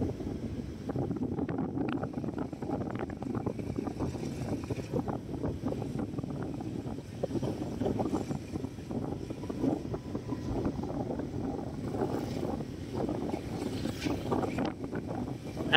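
Steady wind buffets a microphone beside a road in Can Tho, Vietnam, a constant low rumbling roar that fills the whole stretch with no speech.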